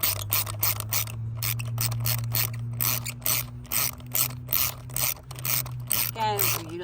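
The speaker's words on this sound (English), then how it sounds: "now we're loosening spark plug number 3" Spark plug wrench with extension loosening a spark plug on a 2021 Hyundai Elantra SEL 2.0-liter engine, rapid rhythmic ratcheting clicks in short bursts, close and clear over a low steady hum.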